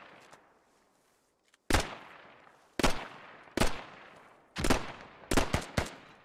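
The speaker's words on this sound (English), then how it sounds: "I'm not sure exactly what this guy's shooting at." Gunfire in the Squad video game, a run of sharp individual shots after a near-silent start, some close and loud, spaced irregularly with short gaps between reports.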